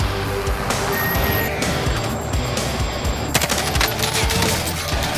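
Rapid bursts of gunfire from an enemy soldier in a first-person shooter game, dense and continuous with sharp cracks throughout, loud and close over a busy battlefield din.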